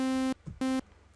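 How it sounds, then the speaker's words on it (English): Blank init preset on the Sylenth1 software synthesizer: two bright, buzzy sustained synth notes, each around a third of a second long, separated by a short gap with a faint low tail. "I will get to completely blank preset which sound like this."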